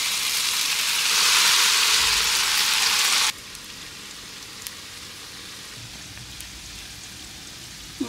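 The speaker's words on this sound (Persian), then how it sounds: "روغنمون داغ شد. حالا میخواییم موادمون اضافه کنیم داخل روغن." A green bean kuku mixture hits hot oil in a pan with a loud burst of sizzling. It quickly settles into a faint, quiet crackle with a few small pops.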